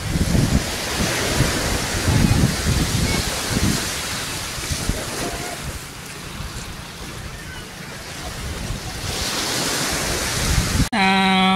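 Ocean waves wash onto the beach at Rosario, Cavite, a continuous surf roar with wind buffeting the microphone and low rumbling gusts.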